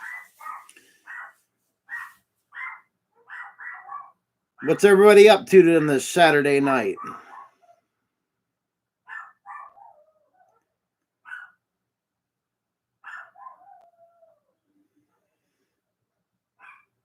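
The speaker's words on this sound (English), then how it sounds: "You better hear the fucking dogs downstairs barking too." Dogs barking downstairs in a house, a series of short repeated barks heard at a distance through the clip, with someone speaking briefly in between.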